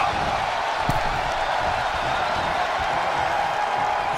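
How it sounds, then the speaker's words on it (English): A large arena crowd roars steadily throughout a WWE wrestling video game tag team elimination match, a dense and constant wall of cheering with no gaps and one brief sharp hit near the start. "The WWE Universe is showing their appreciation for the action they're seeing."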